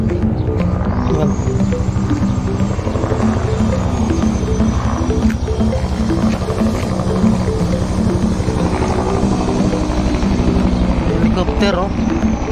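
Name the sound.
helicopter flying overhead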